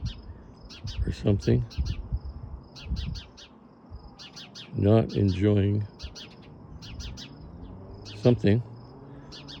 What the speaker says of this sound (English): Mrs. Bird is telling us off